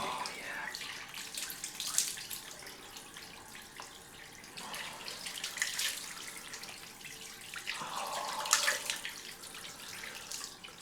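A bathroom tap runs for a cold rinse while shaving, a quiet steady stream with water splashing as hands and face are rinsed, heard close and soft.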